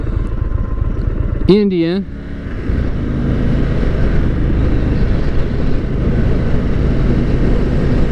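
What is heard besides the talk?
Indian motorcycle riding on the highway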